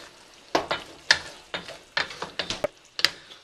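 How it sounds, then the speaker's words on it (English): Chopped ribeye steak sizzles in a pan as cheese is worked into the juices for Philly cheese steaks, with a spatula scraping and clacking in quick, irregular strokes over a soft, steady frying hiss. "we'll work all that cheese in with all that juice"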